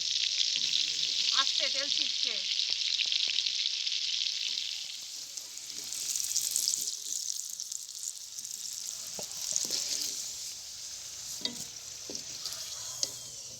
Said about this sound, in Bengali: এবার ডুবো তেলের মধ্যে এই আলুগুলোকে ভেজে নিচ্ছি